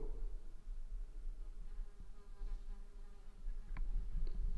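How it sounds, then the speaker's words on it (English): Inside All Saints Church in Santon, a fly buzzes around. The buzzing is faint and droning against a quiet, hollow room tone, with a few soft knocks and no talking. "A blasted fly buzzing around."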